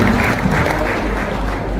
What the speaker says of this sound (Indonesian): Beri tepuk tangan untuk mereka semua.